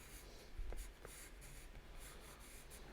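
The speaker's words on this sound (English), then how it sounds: "so now I draw them in with pencil" A pencil drawing on paper makes soft scratchy strokes, a quiet run of short rubbing scrapes in an irregular rhythm, close and faint.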